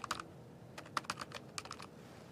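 Someone types on a computer keyboard while managing Windows Server 2008 R2, with quick, quiet bursts of keystrokes in two short clusters.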